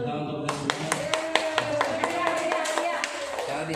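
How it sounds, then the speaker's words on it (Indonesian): A class or workshop group claps for everyone, a brief bout of scattered, fairly sparse hand claps with a voice running beneath. "luar biasa tepuk tangan untuk kita semua"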